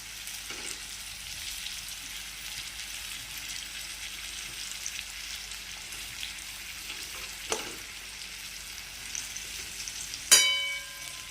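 Food frying in a pan in a home kitchen gives a soft, steady low sizzle throughout, with a few faint clicks and a sharp metallic clink near the end, and no talk.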